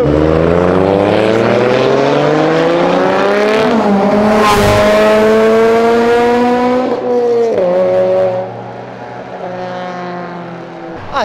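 A BMW with a Toyota 2JZ engine revving hard and loud up close, pitch climbing through the gears, then settling to a lower, steadier idle-like drone.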